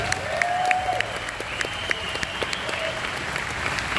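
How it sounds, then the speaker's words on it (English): An audience at GearFest claps for Ibanez, dense steady applause from a crowd filling the room at an even level with a few cheers mixed in. "Big round of applause for Ibanez."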